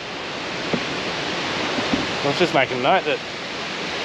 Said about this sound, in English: Here we are at one of the Twin Falls at King George.